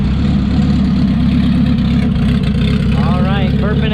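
A car engine idles steadily on cold oil after being started back up following axle and ball-joint work, a loud constant low rumble with a person talking over it.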